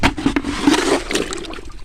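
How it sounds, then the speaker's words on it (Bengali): Water pouring into a bucket on a rooftop garden, a steady splashing rush with brief gurgling bursts, close and fairly loud, no voices. "এখানে জল নিচ্ছি বালতি ভর্তি করে"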